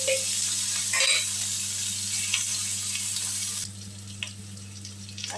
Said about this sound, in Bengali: আলুগুলো একটু সামান্য একটু ফ্রাই হবে।